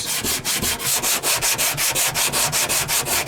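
A sander with 36-grit paper strips paint and primer off metal down to bare steel on a 2009 Silverado, a harsh rasping scrape that pulses in quick, even strokes, close and loud with no voices.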